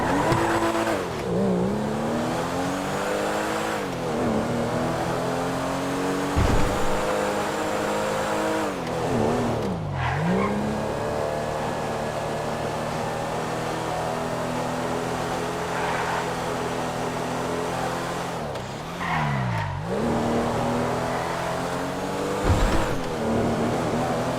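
An old car in the video game GTA drives with a steady droning engine that rises and falls in pitch, and its tires squeal in several skids as it turns, loud and close throughout.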